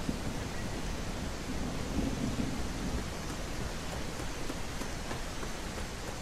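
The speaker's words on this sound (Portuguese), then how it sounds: "É muita barulheira quando chove." Steady rain hiss and low rolling thunder from a crime-simulation game's storm, a continuous wash of noise with a few faint crackles, played alone with no talk.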